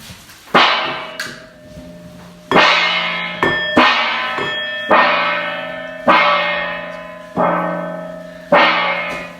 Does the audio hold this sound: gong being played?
yes